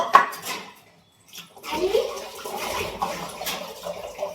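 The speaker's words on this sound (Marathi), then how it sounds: "तर आता मी भांडी घासून घेते" Dishes clink and scrape under running water, with a short quiet pause before the washing sounds pick up again.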